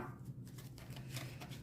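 A deck of tarot-style oracle cards being shuffled by hand, a soft continuous riffling and sliding of cards with faint flutters, close and quiet over a steady low hum.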